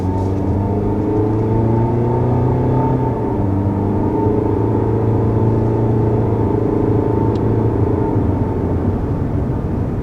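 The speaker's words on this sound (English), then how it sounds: "the engine is kind of loud when you accelerate" A 2021 Toyota Corolla SE engine under acceleration, a loud steady drone heard from inside, its tones rising gradually and shifting as gears change, continuous with no speech.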